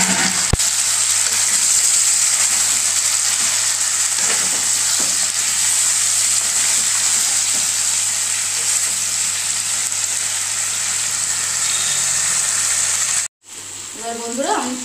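Mutton, parboiled with salt and turmeric, sizzling steadily in a pan of hot oil after onion paste and ginger paste go in, a loud continuous frying hiss with a brief cut near the end.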